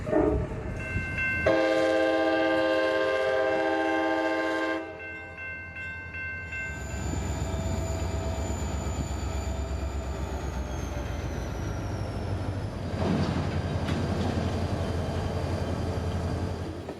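A freight train in Moncrief yard at Folkston sounds a long horn blast, then a switcher rumbles and grinds along with wheels squealing and a steady low drone.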